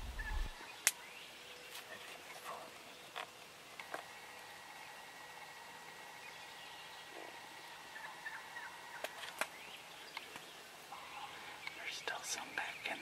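Wild turkey toms gobble out in a field during spring turkey season, the calls faint and distant over quiet background hiss, with brief low whispering nearby.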